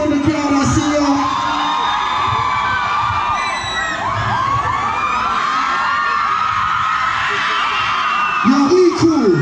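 A dense concert crowd at a show roars continuously, with whoops, shouts and high cheers rising over a steady wash of noise, swelling again near the end.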